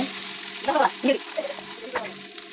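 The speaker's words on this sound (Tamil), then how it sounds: "நம்ம செஞ்சு வச்ச கட்லெட்டை அப்படியே அதில் போட்டுக்கோங்க போட்டு கொஞ்சம் நேரம் ஃப்ரை பண்ணி எடுங்க" A soy cutlet fries in a little oil on a dosa tawa, producing a steady close sizzle with a few soft scraping stirs over the hiss.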